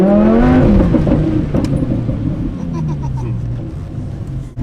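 A brand-new Lamborghini Aventador accelerates hard with traction control off, its engine note climbing then dropping through a gear change, loud and close from inside the car, with wind noise underneath.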